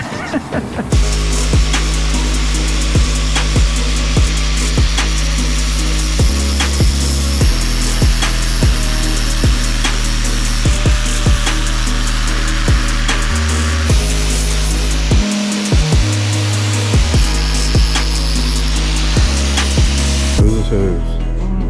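An abrasive grinder works on a Harley-Davidson Sportster chopper frame, giving a loud, continuous droning whine throughout, its pitch stepping up and down as pressure changes, with scattered sharp scraping ticks.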